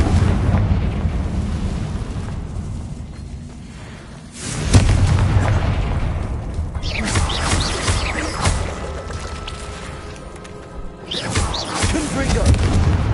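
Fiery Confringo spell blasts in Hogwarts Legacy: two loud booming explosions with rumbling tails over continuous game sound.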